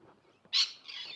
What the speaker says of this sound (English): There's some parrots, apparently, in that tree there. You probably hear them.